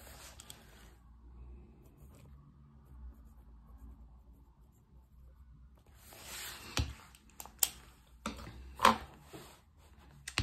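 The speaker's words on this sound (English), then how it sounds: "I'm just gonna write dinners" A pen writes in a Hobonichi Weeks planner. Faint scratchy strokes come close up and quiet, followed by a few louder taps and rustles near the end, with no talking.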